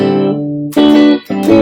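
Electric guitar through a Brit and clean amp preset in GarageBand, a sustained chord ringing out and then two fresh strums, clear and close with no talking.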